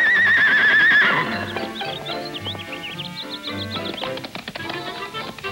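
Horses bred for racing and riding pleasure, such as saddlebreds and Tennessee walking horses, whinny loudly at first, then give softer snorts and nickers over a busy background of clip-clop and tapping.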